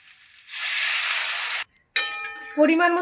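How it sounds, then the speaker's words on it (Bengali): Water is poured into a sizzling pan of spiced cauliflower and potato curry, setting off a loud, steady hiss of steam for about a second. A short metallic clang follows, then a voice speaks. "এবার আমি দিয়ে দিচ্ছি পরিমাণ মতো জল।"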